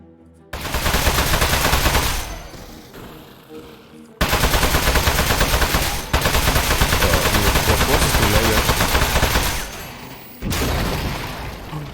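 Rapid automatic gunfire in the video game Aperture Desk Job comes in loud, sustained bursts split by short pauses, with a low drone filling the gaps.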